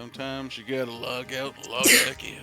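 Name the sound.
sneeze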